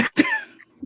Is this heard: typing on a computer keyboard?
no